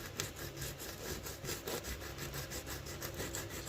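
A nitre bush seed rubbed back and forth at an angle against an abrasive surface gives a steady, faint scratchy rasping with regular strokes, close by and alone.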